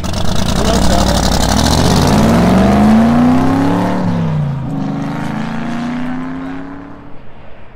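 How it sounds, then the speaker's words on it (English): An electric bike surges forward on its throttle in power mode, its motor whine climbing steadily in pitch, then easing and falling away amid loud rushing wind noise. "I will just put my foot on the pedal and I'll hit the throttle."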